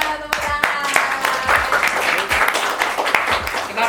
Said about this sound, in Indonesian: Oke, tepuk tangan, tepuk tangan.